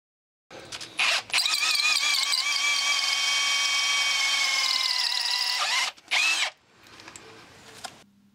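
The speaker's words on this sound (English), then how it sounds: "So I'm now going to take the drill with the diamond core bit" A drill with a diamond core bit bores out a concrete anchor: short revving bursts, then a sustained loud grinding whine for several seconds, a pause, one more quick burst and a quiet tail.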